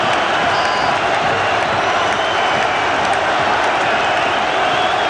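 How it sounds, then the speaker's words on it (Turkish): Arsenal fans in a stadium giving a standing ovation after a penalty shootout, a loud continuous wash of clapping and crowd noise with no breaks. "Ve Arsenalliler ayakta alkışlıyorlar takımımızı ve kendi takımlarını."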